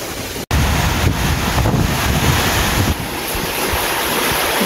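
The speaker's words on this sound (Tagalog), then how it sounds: "Pagkatapos ng malakas ng hangin, may hangin pa rin pero may ulan." Strong night wind roars steadily and loudly against the microphone, a constant buffeting rush with one sharp momentary dropout near the start.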